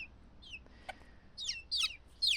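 A newly arrived year-old hen gives a few short, high clucks close by, coming in quick bursts that grow louder toward the end over a quiet background.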